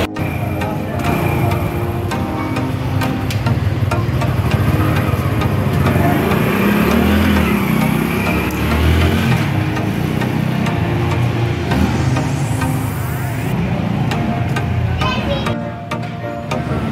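A motorcycle engine drones steadily and loudly while riding, its pitch shifting slightly with throttle over a continuous roar, with a brief drop near the end.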